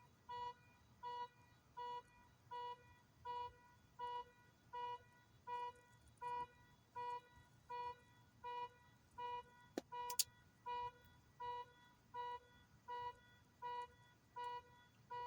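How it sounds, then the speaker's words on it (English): A car alarm beeps in a steady repeating pattern, about two pulses per second of a harmonic electronic tone, moderately distant, with one sharp click partway through and no talk. "Motherfucker come in and turn their alarm on."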